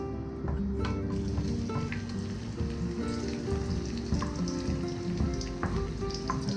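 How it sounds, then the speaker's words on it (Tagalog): Onions sautéing in hot oil for chicken liver adobo, a dense, steady crackling sizzle close up that continues without break, with faint occasional stirring and no speech. "Ngayon, magigisa na po tayo guys. Lagyan na po natin yung sibuyas."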